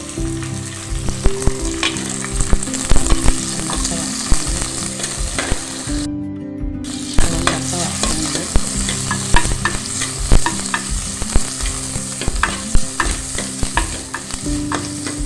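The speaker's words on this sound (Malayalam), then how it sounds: "വെളിച്ചെണ്ണ പാർന്നിട്ട് അതിൽ നമ്മൾ വെണ്ടക്ക വറുത്തെടുക്കുകയാണ്" Okra sizzles loudly in hot coconut oil while a utensil stirs and scrapes the pan, with a brief moment of quiet partway through.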